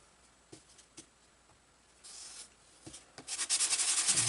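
A Great Planes PT-20 model airplane part is sanded by hand: a few faint scratches and taps, then a stretch of rapid rhythmic rubbing strokes building louder at the end.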